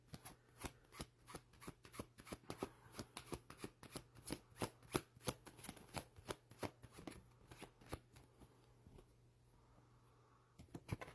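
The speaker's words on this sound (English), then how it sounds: "when I went to shuffle again" Tarot cards riffled and shuffled repeatedly in quick, crisp bursts, close and fairly soft, with a short quiet pause near the end.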